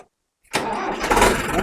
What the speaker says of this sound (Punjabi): ਬੈਟਰੀ ਇਹਦੀ ਸੈਲਫ ਮਾਰਿਓ ਟਰੈਕਟਰ ਦੀ